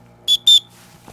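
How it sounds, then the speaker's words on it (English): Two short, shrill blasts from a safety whistle built into the strap of a Waterfly Kung Fu sport backpack, close by, the second slightly longer, each a piercing steady tone, with a faint low hum underneath. "It does, of course, also have an integrated whistle"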